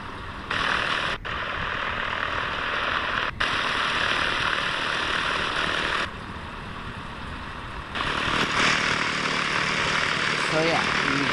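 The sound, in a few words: airplane taxiing to a ramp in video game X-Plane 11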